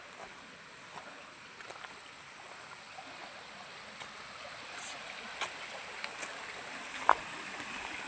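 Soft, steady rush of flowing stream water heard from a short distance, with a few faint clicks and taps over the continuous wash.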